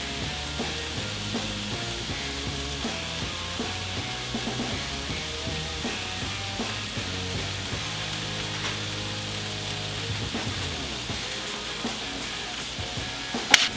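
Peppers, onions and mushrooms fry on a Blackstone griddle with a steady close sizzle, occasional soft clicks of a spatula, and a sharp metallic tap near the end.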